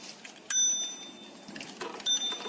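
A rental electric bicycle's bell rings twice, bright metallic dings close by, the first at the start and another near the end, with faint handling noise between.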